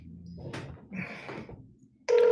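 A telephone on speakerphone is being dialed, with soft handling clicks and rustles followed by a sudden loud, steady electronic tone, close and clear.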